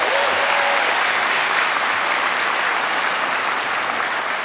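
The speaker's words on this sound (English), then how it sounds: "Please give them a round of applause." An audience at a culinary awards ceremony applauds in a full, even round of clapping that holds steady from start to finish, close and loud, with no speech over it.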